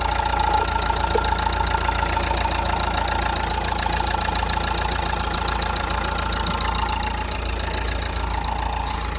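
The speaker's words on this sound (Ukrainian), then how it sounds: "ось дивіться, як працює двигун. Нічого не вібрує, м'якенько все працює" A 2013 Nissan Qashqai with a 1.5 dCi diesel engine idling, heard up close as a steady, even low drone with fine rapid diesel clatter running unchanged throughout, no voices.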